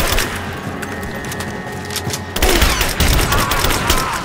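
Gunfire in the video game Rise of the Tomb Raider, a loud continuous fusillade of rapid shots that steps up sharply in intensity partway through, with a faint voice briefly audible.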